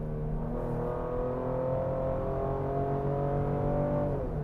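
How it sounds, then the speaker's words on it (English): A 2025 Ford Explorer ST's engine drones steadily, its pitch rising as the revs climb on a downshift, heard from close by inside the vehicle with no talking. "Okay, so I'll downshift."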